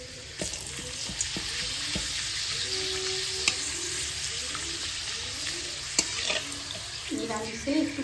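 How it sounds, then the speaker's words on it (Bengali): Papad frying one at a time in hot oil, giving a steady, close, crackling sizzle with a few sharp pops and clicks throughout and no talking. "তো তেল গরম হয়ে গেছে, এখন পাঁপড়গুলো ভেজে দিই একটা করে।"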